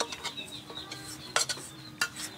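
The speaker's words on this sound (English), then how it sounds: "mix it all up" A red ant egg salad is mixed with a spoonful of fermented seasoning: quiet, irregular clinks and scrapes of a utensil against a bowl, with a couple of sharper knocks and no talking.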